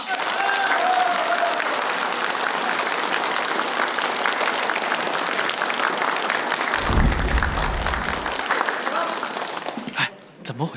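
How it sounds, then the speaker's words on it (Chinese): A wedding banquet crowd gives loud, sustained applause with cheering that lasts nearly the whole time, briefly joined by a low boom before fading out at the end. "让我们掌声有请钱副省长上场"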